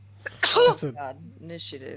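One loud, close sneeze bursting out amid casual talk at a tabletop role-playing game session, with voices speaking just before and after.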